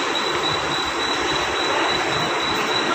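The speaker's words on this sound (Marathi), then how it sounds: "आता ट्रेन चाललेली आहे." Train rolling along the rails on a Mumbai to Pune journey, a steady, loud broadband rumble with rail noise and faint wheel squeal running continuously throughout, with no talking.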